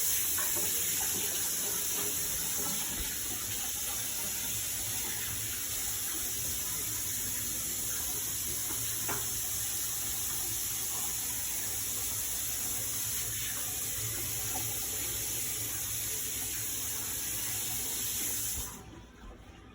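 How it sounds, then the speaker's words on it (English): A kitchen tap runs in a steady, broad rush of water for nearly twenty seconds while hands are washed, a continuous close hiss with faint splashes that stops abruptly at the end. "I'm just gonna wash my hands quickly."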